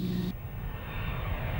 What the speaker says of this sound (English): The versatile Harrier GR7